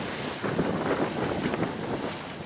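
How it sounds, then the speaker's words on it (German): Wind rushes steadily across a sailboat running downwind under genoa at night at sea, a broad continuous roar with microphone buffeting that swells slightly mid-clip, with no voices. "Wind kommt genau von hinten."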